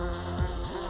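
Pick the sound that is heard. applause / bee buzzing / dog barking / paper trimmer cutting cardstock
bee buzzing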